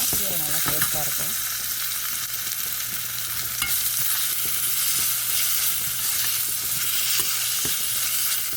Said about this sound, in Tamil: கொஞ்சம் நேரம் வதங்கட்டும் வெங்காயம்.